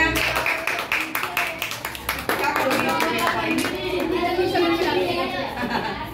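Children clap together in a classroom, a burst of quick uneven claps up close, mixed with kids' voices and chatter; an adult speaks over the noise.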